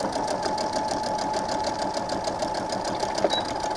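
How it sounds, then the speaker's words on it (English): A sewing machine runs steadily while back stitching fabric to secure a seam on a mitered quilt corner, a continuous loud mechanical whir with a rapid needle rhythm and no pauses. "I do want you to back stitch there because you're going to be pulling on the fabric a little bit."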